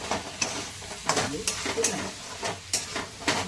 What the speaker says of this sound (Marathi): आपण याला पुन्हा परतून पुन्हा वाफेवर शिजू